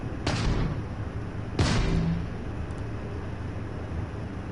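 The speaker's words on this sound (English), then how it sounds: "Oh, we got missiles." Missiles launch in the Starfield game with two sharp, booming blasts about a second apart, each followed by a short rumbling tail and then a low, steady background hum.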